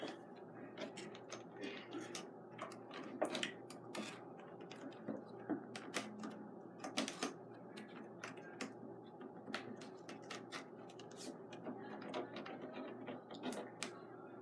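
Faint scratchy clicks and small crackling snips as the top flap of a retro Amiibo three-pack blister package is cut open, quiet and close, in short uneven bursts with no talking.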